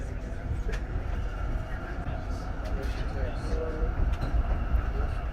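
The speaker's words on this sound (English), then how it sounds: "I miss the sound of a Melbourne tram." A Melbourne tram rumbles past steadily, wheels clicking faintly on the rails, while a voice talks over the low continuous drone.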